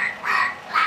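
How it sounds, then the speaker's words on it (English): A duck quacks in three short, nasal calls, each fairly close and clear, with brief pauses between them against a quiet background. "That's a duck."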